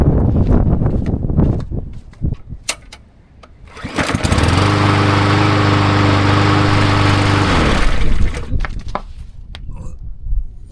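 A cheap Chinese lawn mower with a freshly cleaned carburetor clatters through a few start attempts, then its small engine catches and runs loud and steady for about four seconds before cutting out.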